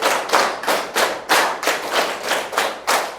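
Rhythmic group clapping by students in a classroom focus game during a maths lesson, a run of loud unison claps in a steady pulse, about eight strong beats with thumping emphasis.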